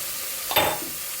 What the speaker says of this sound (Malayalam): ഇത് നന്നായി ഇളക്കിയെടുക്കാം.